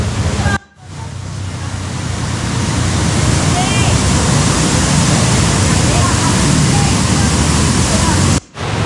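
A river pours into a natural pool near Guaduas, Colombia, making a loud, steady rushing roar of water that fills the whole stretch, broken only by two brief cuts.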